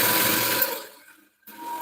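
A sewing machine stitches a blouse with a loud, close, continuous whir that slows, stops briefly, then starts running again.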